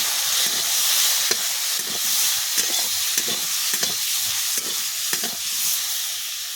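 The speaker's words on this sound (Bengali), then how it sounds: "হলুদ গুঁড়োও দিয়ে দিচ্ছি, দিয়ে 2 মিনিট ভেজে নিচ্ছি" Raw mango pieces fry in hot oil with turmeric powder for a homemade green mango chutney, giving a steady close sizzle with repeated spatula scrapes and stirring clicks throughout.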